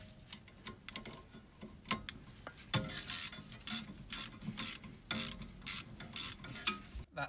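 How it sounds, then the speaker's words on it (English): A 17 mm spanner working a brake retention bolt on a barn-find Austin Maestro, giving a run of close metallic ratcheting clicks and taps in uneven bursts with short pauses, loud and alone. "I now need a 17 mil spanner"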